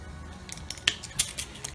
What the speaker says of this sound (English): Have a little look at the chassis while I'm just fumbling with the tape measure.